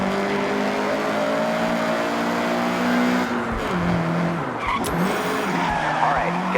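A Honda CRX in Forza Horizon 6 roars at full throttle, its engine note climbing steadily with tires skidding and squealing, then shifting and climbing again in a loud, continuous run.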